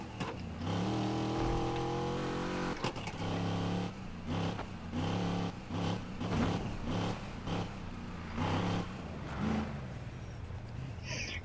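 A car engine in the Need for Speed racing game, a premium car, revs up and down repeatedly in steady surges, loud and close throughout.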